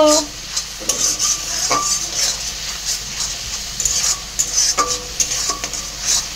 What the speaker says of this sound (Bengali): পেঁয়াজ বাটাটা দিয়ে ভালো করে একটুখানি ভেজে নেব।